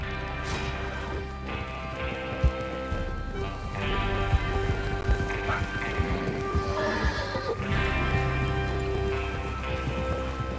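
Horses in the Red Dead Redemption game whinny and clip-clop at a gallop over a constant bed of rain, with several neighs rising clearly above the hooves.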